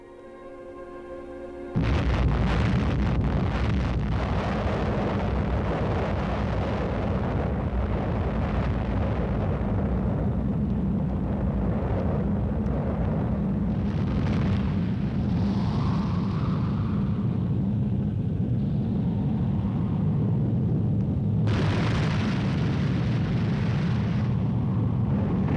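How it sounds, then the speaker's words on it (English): An atomic bomb detonation at a military test site erupts into a sudden, massive blast that swells into a long, steady roar and rumble, sustained and loud for over twenty seconds with no voices. "Men who have experienced their first atomic explosion"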